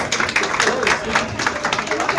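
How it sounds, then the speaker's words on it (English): Audience applause at the inauguration of a new Apollo hospital, with dense clapping from a crowd that stays steady for the full stretch and some voices mixed in. "Let's give a big round of applause."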